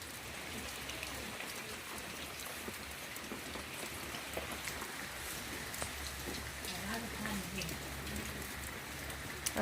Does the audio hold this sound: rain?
yes